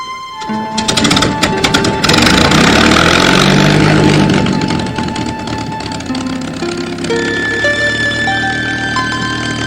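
A loud P-51 Mustang's 1,650 cubic inch Merlin piston engine with two-stage supercharger roars steadily, with a rising whine of harmonics as it runs up, dense and close throughout.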